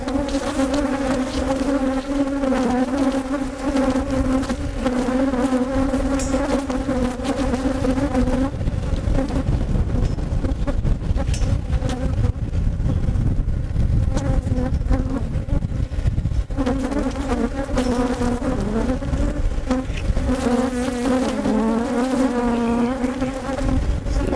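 Honey bees buzz steadily and loudly around open hive frames with a bee vacuum running in windy outdoor conditions, a dense continuous drone with layered harmonic hum throughout, no talking.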